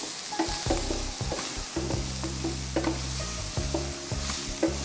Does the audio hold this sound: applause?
no